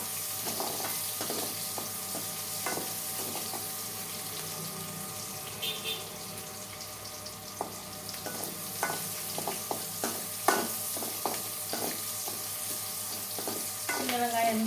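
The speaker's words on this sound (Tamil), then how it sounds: "வெங்காயம் நல்ல வணங்கட்டும்." Onions fry in a pan for a village-style cowpea curry, giving a steady sizzle that is broken by repeated sharp scrapes and clinks of stirring, close and fairly loud with no talking.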